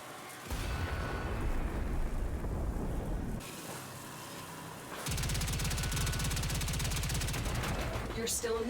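A power core blowing up in Warframe, heavy booming blasts and rumbling debris with rattling gunfire, loud and near, with a sharp new surge about five seconds in.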